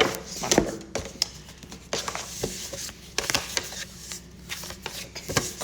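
Tarot cards are shuffled and pulled by hand, with close, papery riffles and flicks in irregular bursts and soft taps and slides between them, fairly loud and without speech.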